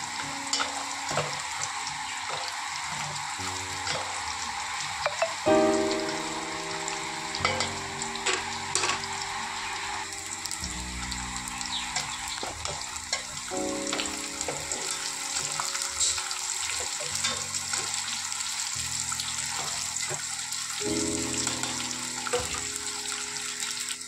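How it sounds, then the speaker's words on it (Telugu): Pakodi frying in a tempering with curry leaves in a pan, a steady close sizzle throughout with stirring scrapes and clinks over it. "ఇప్పుడు పకోడీ ఉంది కదా, ఆ పకోడీ తాలింపులో వేసుకోవాలి."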